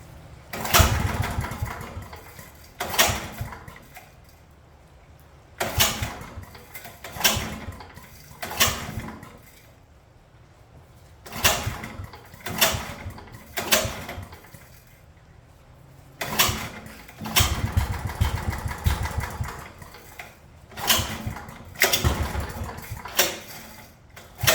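Old rototiller engine running roughly in repeated bursts, each loud sputtering run dying out after a second or two before starting again, close by, about a dozen attempts with short quiet gaps.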